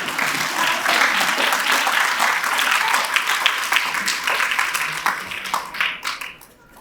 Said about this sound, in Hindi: आप सब ताली बजाकर उनका स्वागत करिए